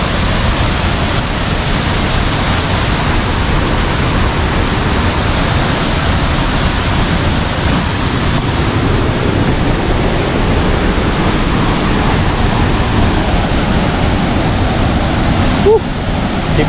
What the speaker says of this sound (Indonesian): Gemuruh air.